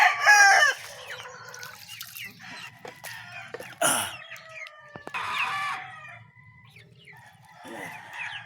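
Backyard chickens in the morning, with close, loud clucks and squawky calls coming in irregular bursts, a few faint drips of water in between and quieter stretches toward the end.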